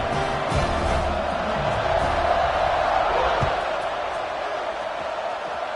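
A stadium crowd in the NCAA 26 college football video game roars in a steady, dense wall of cheering at kickoff, loud and sustained throughout.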